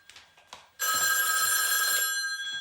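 A telephone bell rings loudly with a continuous metallic trill, starting abruptly after a few soft noises and carrying on for nearly two seconds.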